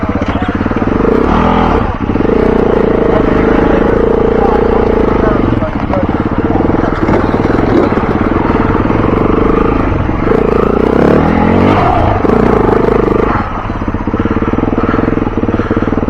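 A trail motorcycle engine revs hard and steadily while climbing a steep ascent, loud and close, with brief dips as the throttle eases and mechanical clatter over the top.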